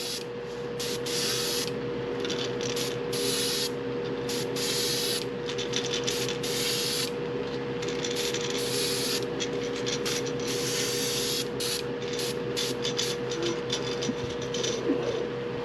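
An aerosol can sprays light coats of paint onto a fishing lure in repeated short and longer hissing bursts, close and steady, with brief pauses between passes.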